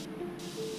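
A pressure washer sprays in PowerWash Simulator while a playground slide is cleaned, a steady soft hiss of water jet with a faint tonal whine, brief and continuous with no speech.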